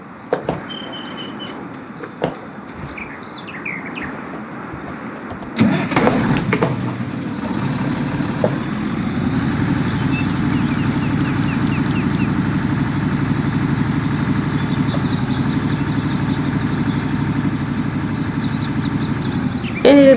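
A tractor engine in Farming Simulator 19 cranks and catches, then settles into a steady, close idle that runs unbroken for the rest of the stretch, with no talk over it.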